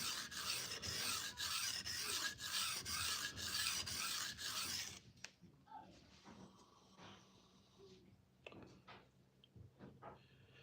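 A knife is sharpened on a whetstone while a burr is raised, giving steady, rhythmic rasping strokes that fill the first half, then sparse, quieter scrapes and clicks.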